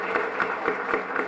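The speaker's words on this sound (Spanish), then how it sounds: "Fuerte aplauso entonces para el Señor" A church congregation at a live Mass for a parish patronal feast applauds, with the clapping falling into a steady, rhythmic beat that stays loud and close throughout.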